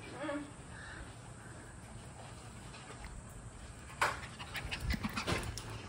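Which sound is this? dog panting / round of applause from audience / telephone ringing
dog panting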